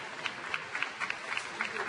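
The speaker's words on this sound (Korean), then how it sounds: "다시 한번 박수 소리가 나오고 있고" Staff applaud at a farewell ceremony outside a prosecutors' office for a departing prosecutor general, with scattered, fairly faint clapping heard under a reporter's ongoing commentary.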